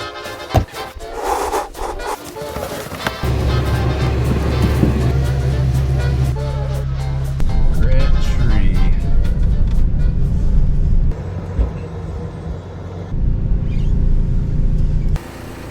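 An RV's onboard generator cranks and starts in a parking lot, settling into a loud, steady low rumble with some mechanical clatter and a shift in pitch partway through.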